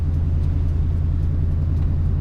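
Engine of a 1980 Chevrolet Camaro rumbling steadily while driving, a loud, continuous low drone with even throb and no pauses.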